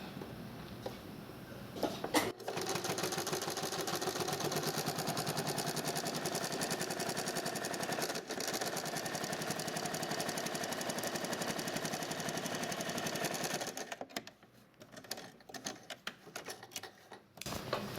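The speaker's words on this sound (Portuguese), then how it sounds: "E aí a gente vai passar um pespontinho bem aqui, ó, usando essa medida." A sewing machine runs a continuous topstitch along the edge of a fabric pouch, a fast steady mechanical chatter lasting most of the time before slowing into short stop-start bursts near the end.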